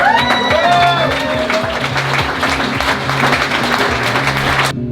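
An audience applauds a drummer at an Irish blues show, with steady, loud clapping and some cheering over sustained low band tones and a brief high whistle-like sound early on.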